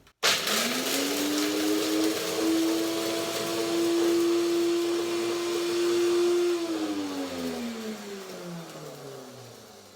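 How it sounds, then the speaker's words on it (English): A blender grinds hazelnuts into flour with a loud, steady whirring drone that holds for several seconds and then winds down as the motor slows. "You can put it in a blender, just like that. And in a second you have hazelnut flour."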